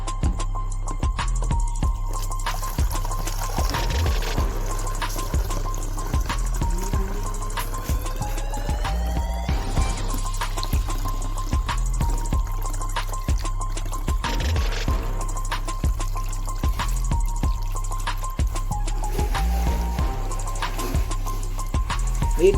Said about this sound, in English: the bottle with water. I am using a funnel.